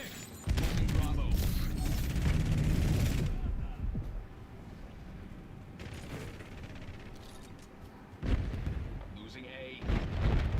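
A Semtex grenade goes off in a Call of Duty Black Ops 7 multiplayer match. It comes as a loud burst with booming gunfire and mechanical clatter, then quieter battle noise and a few more sharp bursts.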